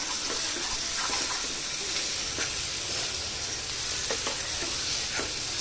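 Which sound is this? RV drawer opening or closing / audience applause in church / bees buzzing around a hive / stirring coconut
stirring coconut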